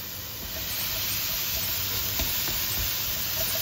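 Sliced zucchini sizzles steadily in a dry pan with no oil, a loud, even hiss of frying broken by faint clicks of stirring, with no voices.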